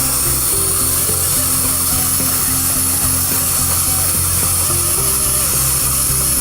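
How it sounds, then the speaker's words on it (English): A dental rotary handpiece polishes a microfill composite filling in a class III/IV restoration, giving a steady continuous high-pitched whine with a faint low hum that runs unbroken the whole time, with no talking. "Composite polishing."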